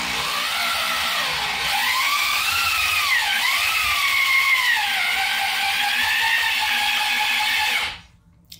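A drill spins a tomato strainer machine, a steady whining motor whose pitch dips and rises with the load, running continuously and close up before stopping abruptly.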